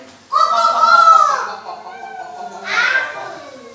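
A voice imitates a chicken with two drawn-out, squawking calls, loud and close, separated by a short pause.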